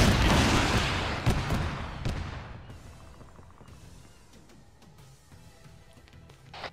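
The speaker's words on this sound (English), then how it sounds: "I heard explosions." A loud, heavy blast opens, followed by a few sharper booms and a fading rumble, like distant explosions in the game DayZ Namalsk.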